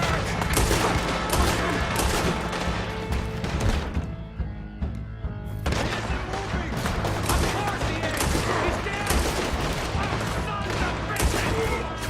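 A heavy Red Dead Redemption 2 shootout keeps up constant rapid gunfire with overlapping rifle and pistol shots. Characters shout over it, and there is a brief lull before the barrage resumes.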